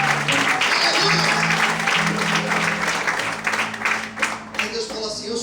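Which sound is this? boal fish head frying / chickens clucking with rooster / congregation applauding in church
congregation applauding in church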